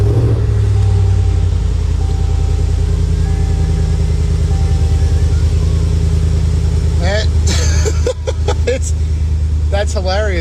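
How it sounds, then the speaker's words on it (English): A pickup truck engine runs at a steady, loud idle with a deep continuous rumble, and someone talks over it throughout. "I'm going to start my truck"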